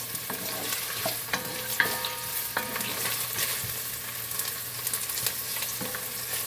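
Onion frying in a hot, heavy-bottomed pan at the start of a curry, a constant soft sizzle with occasional light scrapes and taps of a spoon as it is stirred.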